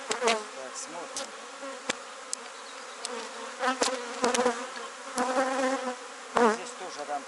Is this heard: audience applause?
no